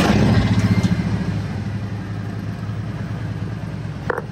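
A Harley-Davidson motorcycle engine cranks on a weak battery, with a rapid, rhythmic chugging that is loud at first, then eases into a lower, steadier churn and ends in a brief click.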